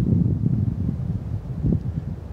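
Breezy wind buffets past outdoors on a very cold November day in New York, a steady low rumbling gust with uneven swells, close and fairly loud, and no one talking.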